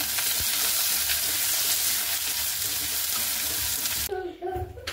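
Chopped onions and bay leaf fry in hot oil in a pan, giving a loud, steady sizzle with stirring scrapes that cuts off sharply near the end, leaving a quieter tail.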